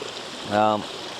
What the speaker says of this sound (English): Right now the water is concentrated in one pipe coming out here